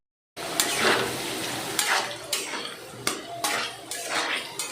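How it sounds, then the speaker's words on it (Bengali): Potatoes fry in a kadai while a metal spatula scrapes and stirs them in repeated loud strokes over a low background sizzle. "নিয়ে আলুটাকে ভালো করে লাল করে ভাজবো"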